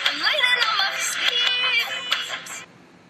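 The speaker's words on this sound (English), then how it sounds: "So we're going to click Reverse and it's going to flip that word around." A song with one word played backwards after an Audacity Reverse edit, a short swelling vocal-like smear with odd reversed attacks that fades out after about two and a half seconds.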